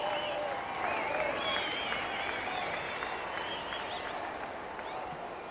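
A rugby league stadium crowd at a Dragons versus Titans match cheers and applauds steadily, a broad, continuous roar holding for several seconds and easing off slightly toward the end.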